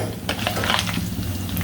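Chicken leg and lollipop pieces fry in hot oil with whole garam masala, a loud continuous sizzle with a few stirring scrapes and clinks, heard up close.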